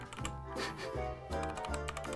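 Rapid typing on a budget mechanical gaming keyboard from a Temu PC setup, fitted with red switches, gives a dense run of close, clicky keystrokes with no talking.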